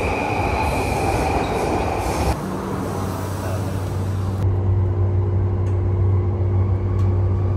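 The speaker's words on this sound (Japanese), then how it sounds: "引き続きこちら山手線の外回りに乗っていきます。" Steady loud rumble of a JR Yamanote Line train running on rails in Tokyo, with a shift in tone partway as the carriage noise changes, no voices.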